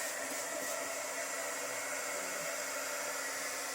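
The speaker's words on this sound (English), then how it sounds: "a little bit of a heat gun here. It's not a real hot one." A low-powered craft heat gun blows a steady, airy rush of hot air onto fluid acrylic paint on a large canvas, a constant hiss-like stream close to the listener with no talking.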